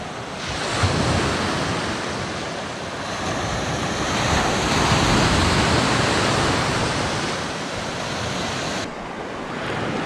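Sea waves roll and break continuously on the shore in a broad, loud wash of surf, swelling and easing over time with some wind noise, on a Moroccan coastline with heavy seas where people fish.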